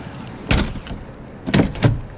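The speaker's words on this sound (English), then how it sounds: "The door on this guy slides," Sliding bathroom door on a 2015 Lance 865 truck camper, giving three short bumps and rolling thuds as it glides and latches, close by in a quiet interior.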